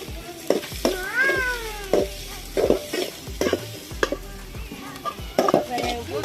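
Onions sautéing in a pan with garlic and vadagam for a village-style fish curry, with stirring clatter and a steady sizzle, plus a cat meowing nearby.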